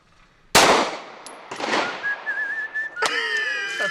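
Two sharp Glock pistol shots aimed at cans outdoors ring out about a second apart, the first loudest, each followed by a fading echo, then a whistled tone and a brief ringing clang.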